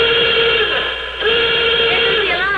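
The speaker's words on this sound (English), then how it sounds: "There's the alarm." An alarm sounds loud and continuously, a harsh, steady electronic tone that wavers slightly in pitch and fills the whole moment.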